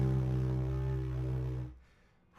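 A beginner's weak didgeridoo drone, a steady low buzzing tone held for about a second and a half with thin harmonics, then stopping into near silence.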